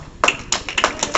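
A handful of scattered claps from a convention panel audience, a few sharp bursts close together rather than a full ovation, with no talking.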